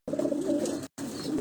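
A baby black pigeon gives two soft, throaty coos in quick succession, close by, the second after a brief pause.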